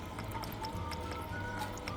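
Pumpkin pieces being rinsed under water, with close, gentle splashing and dripping over a low steady background hum and no talk.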